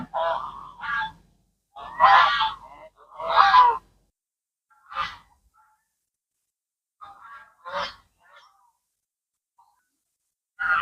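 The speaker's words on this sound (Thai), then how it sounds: "เข้ามามีหานเต็มเลยครับ" Loud geese honks at a Thai temple in a few close bursts, then sparser, fainter calls trailing off with quiet gaps between.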